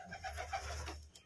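Soft, low cooing from pigeons in a loft, including a red Pilong pigeon, a brief close murmuring call over a faint background hum.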